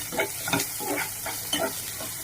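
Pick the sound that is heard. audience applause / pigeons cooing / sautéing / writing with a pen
sautéing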